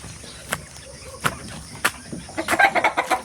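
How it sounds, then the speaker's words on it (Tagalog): Chickens cluck in short bursts nearby, the clucks growing quicker toward the end, with crickets chirping faintly outdoors. "may manok lagi sa labas"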